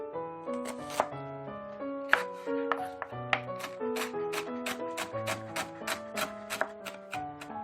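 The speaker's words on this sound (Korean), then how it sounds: "양념간장에 넣을 파를 먼저 다질게요" Green onions being minced with a knife on a cutting board for a seasoned soy sauce, a steady run of quick, crisp chopping taps, close and fairly quiet, with soft background music and no talk.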